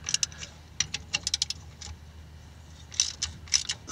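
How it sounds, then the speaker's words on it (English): Wrench clicks and metallic rattles as differential cover bolts are loosened on a Willys Jeep CJ-5, a few light ratcheting taps in scattered bursts, close and fairly quiet. "I'm going to start by loosening some of the bolts"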